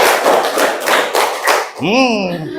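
A group playing a counted clapping game strikes a series of loud unison claps at a steady pace, followed by a single voice calling out.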